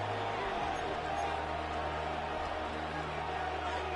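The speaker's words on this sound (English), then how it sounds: "The crowd making their presence felt." Stadium crowd in the American football video game Madden NFL 26, a steady, dense roar of cheering and murmur that holds at an even level for the whole stretch, with no clear voice on top.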